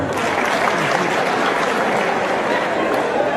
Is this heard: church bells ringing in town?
no